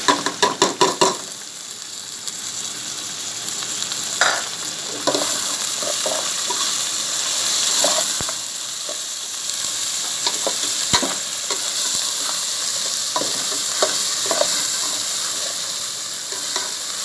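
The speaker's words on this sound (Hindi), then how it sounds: "अब इसमें मैं अदरक लहसुन का पेस्ट डालूंगी।" Ginger garlic paste fries in a hot pan for a chicken bhindi masala, a steady bright sizzle throughout, broken by a few stirring scrapes and light knocks against the pan.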